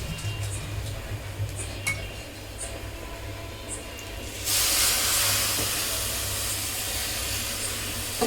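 Milk poured into a hot frying pan over fried ingredients in a home kitchen, a sudden loud broadband sizzle and hiss erupting midway and holding steady, preceded by light clinks of utensils and pans.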